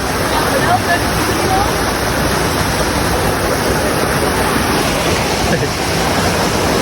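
Steady broadband rushing of river water at a crossing on the Torean trail up Mount Rinjani in the rain, a continuous close roar filling the whole stretch with no break.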